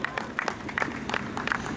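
A crowd at an outdoor political campaign rally applauds in a brief, moderately faint patter of scattered claps.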